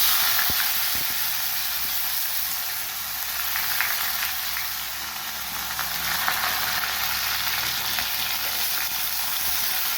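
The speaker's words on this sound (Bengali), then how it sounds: "পেঁয়াজটা একটু লাল লাল করে ভাজবো।" Chopped onion frying in oil with black cumin seeds, a continuous hissing sizzle that holds steady for several seconds, dotted with small crackles and an occasional tap, close up and unaccompanied by speech.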